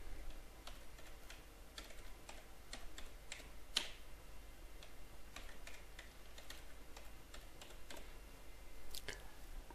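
Soft, quick keystrokes on a computer keyboard as a password is entered, irregular clusters of light clicks with brief pauses, faint and close with a quiet background hum.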